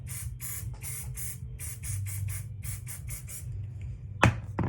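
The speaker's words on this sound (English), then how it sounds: "I'm just gonna take this Chit hairspray and give it a little spray." Chit hairspray misted onto styled hair from a can held close: a rapid string of about a dozen short, crisp hissing puffs, followed by a brief clunk near the end, with no talking.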